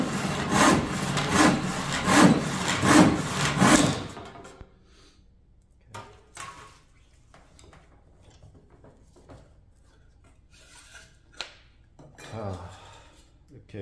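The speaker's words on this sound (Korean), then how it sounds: "자, 이렇게 톱질이 됐습니다" A hand saw cutting square timber clamped in a vise, with about four seconds of rhythmic back-and-forth rasping strokes, close and loud, followed by quieter handling knocks and scrapes.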